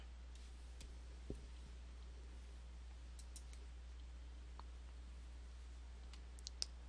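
Computer mouse clicking while working in Microsoft Access design view, a handful of faint, sparse, close clicks over a steady low hum, with no one talking.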